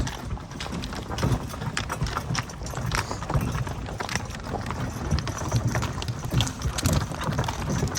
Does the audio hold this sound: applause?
no